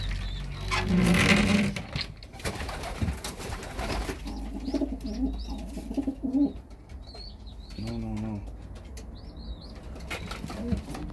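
Homing pigeons coo inside a loft, low soft murmurs repeating through the middle and later stretch, mixed with a burst of wing flapping and scraping near the start.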